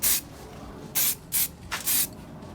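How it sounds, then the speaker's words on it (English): An aerosol can sprays paint over a Mazda MX5's turbo engine bay in four or five short hissing bursts with brief quiet gaps, up close and alone. "give it another spray"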